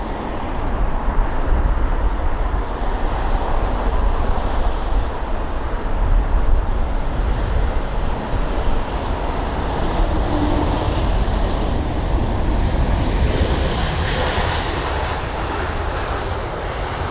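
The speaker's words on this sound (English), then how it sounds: "3 A380s departing at the same time" Airbus A380 jets, including a British Airways one, departing Heathrow in a loud, sustained roar of jet engines that holds steady throughout without any speech.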